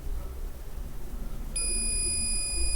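A multimeter set to continuity on the ground of an Asus VivoBook X543M laptop motherboard gives a steady high-pitched beep that starts partway through and holds to the end over low room hum.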